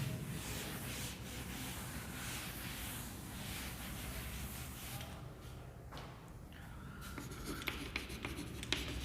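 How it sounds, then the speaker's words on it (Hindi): Pen or marker strokes scratch steadily as an equation is written by hand, close and faint, with short bursts of rubbing strokes and a few light taps near the end. "तो लिखते हैं"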